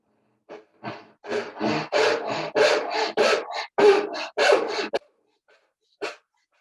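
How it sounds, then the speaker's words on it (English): A hand saw rasps through the waste beside dovetails in a piece of wood held in a vise, a quick run of about a dozen close, even back-and-forth strokes, then a pause and one last stroke. "Next, we're going to cut out the waist on either side of the dovetails."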